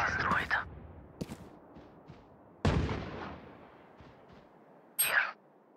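Gunfire in a first-person shooter during a ranked match, heard as several sharp shots: a loud burst at the start, isolated cracks, a heavier blast near three seconds and another burst near the end, over a quiet game backdrop.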